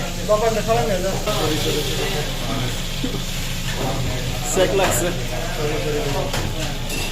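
Rice frying in oil for biryani hisses and sizzles steadily in a pot with occasional stirring scrapes, while people talk close by throughout.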